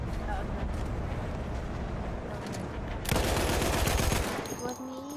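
Gunfire in the video game Battlefield 1 rattles through a dense, continuous battle din, rising into a loud close burst of rapid shots before easing off, with voices mixed underneath.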